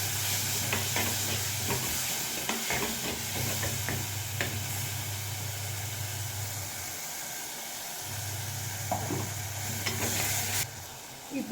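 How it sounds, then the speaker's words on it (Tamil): Ground tomato stirred into a sizzling curry in a pan, a steady frying hiss with scraping spoon strokes and a low hum coming and going, moderately close. "இப்போ தக்காளி அரைச்சி வச்சுருக்கோம்ல, இதை சேர்த்துக்கலாம். சேர்த்து நல்லா மிக்ஸ் பண்ணிடுங்க."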